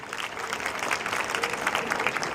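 Audience applause fills the room as two students are welcomed onto a stage, a steady, dense clapping that stays even and fairly close throughout.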